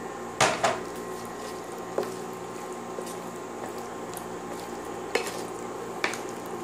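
Scallops and scallions tossed in a hot pan with a steady low sizzle, broken by a few sharp clanks of the pan and utensils, close and moderately loud with no talking.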